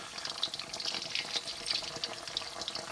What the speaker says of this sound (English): Be careful, the oil's not too hot, guys, it will spit, so just be very careful.